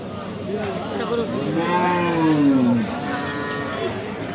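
A Sahiwal cow lets out a long, deep moo over a noisy crowd of murmuring voices at Aftabganj cattle market in Dinajpur.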